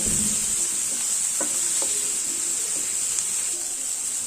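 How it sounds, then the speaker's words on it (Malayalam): Tomatoes sauté in a hot pan for a jackfruit seed masala fry, a steady close sizzle and hiss broken by a few soft clicks of a spoon stirring. "ഈ തക്കാളിയൊക്കെ നന്നായിട്ട് വെന്ത് നല്ല സോഫ്റ്റ് ആവുന്നത് വരെ ഇതൊന്ന് വഴറ്റി കൊടുക്കണം"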